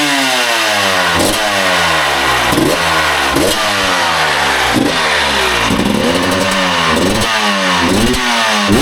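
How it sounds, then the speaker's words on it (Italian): Motorcycle fitted with its current stock exhaust revving hard, loud repeated throttle blips rising and falling in pitch over a rumbling idle, close up with no talking. "questo è lo scarico che monta adesso. Vi faccio sentire subito il sound check."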